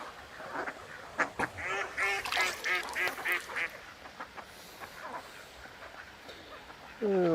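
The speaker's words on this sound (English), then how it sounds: "if you can hear me over these quackers" Ducks on a river, a flurry of quacks and honking calls clustered in the first few seconds, then thinning out, fairly close, over faint outdoor background and a bit of speech.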